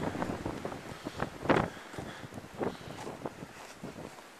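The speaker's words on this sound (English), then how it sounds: "And just that way, the wind disappears again." Strong gusting wind from the February 2010 blizzard roars and buffets the microphone outdoors, with rushing bursts rising and falling and one loud gust peaking midway.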